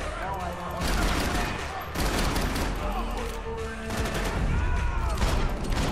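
Rapid bursts of gunfire in the action video game Max Payne 3, with loud clustered shots and booms at about one-second intervals over game music, plus faint voices.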